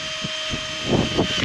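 A power drill whirs in short bursts while pre-drilling screw holes in plywood during construction of a pig breeding facility, a steady whine with thumps that grows louder near the end.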